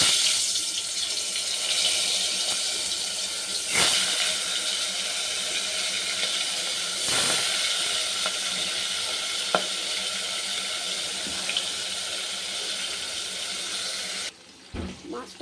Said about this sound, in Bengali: মাছটা ঢেকে ভাজতে হচ্ছে, প্রচুর ফুটছে মাছটা।